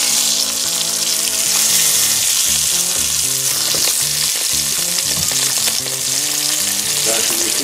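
Aldi Emmentaler bratwurst sausages bubble and sizzle in a deep fryer's hot oil, a continuous loud crackling and hissing heard close up with no talking.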